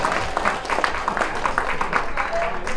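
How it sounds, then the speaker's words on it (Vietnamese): An audience at a reunion party for former students who studied in Russia gives a loud, sustained round of applause in welcome, many hands clapping steadily at once, with some voices blending in. "đề nghị chúng ta một tràng vỗ tay thật lớn"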